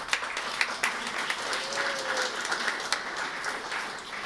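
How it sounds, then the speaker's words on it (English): Scattered applause rises from an audience at an alumni awards ceremony, a moderate, even patter of claps that carries on across the whole moment. "Karen got applause, that's nice"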